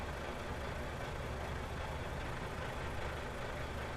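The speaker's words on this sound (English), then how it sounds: "That is a loud motor." A loud truck engine in Euro Truck Simulator 2 drones steadily at close range, a dense, continuous low rumble with no change in pitch and no voices over it.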